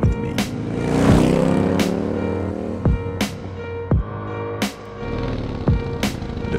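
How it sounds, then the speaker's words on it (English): A motorcycle engine revs with a rising, sweeping drone that sits under a steady musical beat with regular sharp hits. The whole passage is loud and continuous. "now start up that bike and roll with me"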